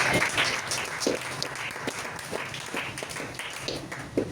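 A church congregation applauds the Lord, a dense sustained wash of many hands clapping at moderate distance, steady and continuous throughout with a few sharper individual claps standing out.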